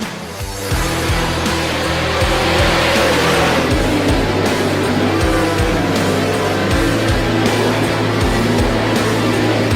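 Winged sprint cars race on the Eldora dirt track, with several engines roaring loudly and steadily and revving in repeated surges as the cars run close together in turn 2.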